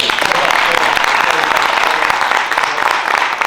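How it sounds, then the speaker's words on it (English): A standing audience at a foundation announcement in Paterson gives a rousing ovation for Dr. Caldwell, a loud, continuous wash of many hands clapping, with some voices mixed in. "Rousing round of applause for Dr. Caldwell, our friend in Trenton."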